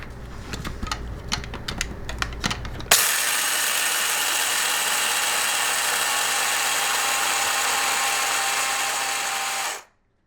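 A countertop coffee grinder whirs loudly and steadily for several seconds after some clatter of handling, then cuts off abruptly.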